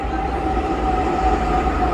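A Pune metro train rumbles loudly along the track near Manapa station, a steady low roar with a faint whine, close and continuous.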